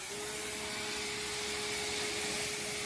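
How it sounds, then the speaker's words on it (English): A pressure washer rinses snow foam off a car coated in road film, tree sap and bugs, giving a steady, close hiss of spray with a constant motor whine underneath, unbroken throughout. "And as you rinse snow foam off, it begins to cut through that film."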